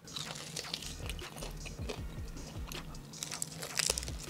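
Crunchy air-fried chicken wing cooked in a KitchenAid air fryer being bitten and chewed up close, a run of crisp crackling crunches in uneven bursts.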